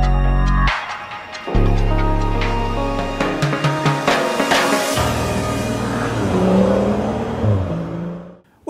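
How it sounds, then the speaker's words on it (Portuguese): A new BMW 3 Series sedan drives past with a loud engine rev and whir, the note rising and shifting before fading away near the end. "mostram o novo Série 3 em movimento"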